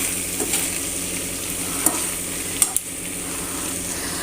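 Onions sizzle in a pan as they are stirred gently. The steady frying hiss is broken by a few light taps of the utensil against the pan.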